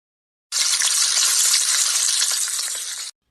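A loud, bright sizzle erupts abruptly and holds steady for about two and a half seconds as cashews hit hot oil in a tempering pan, crackling, then cuts off.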